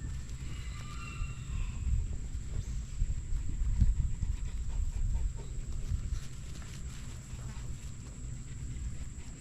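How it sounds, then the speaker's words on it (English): Chickens cluck faintly around a farm amid low rumbling background noise, with a few scattered clucks and rustles over several seconds and no speech. "Listen to all the chickens."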